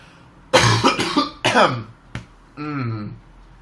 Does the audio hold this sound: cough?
yes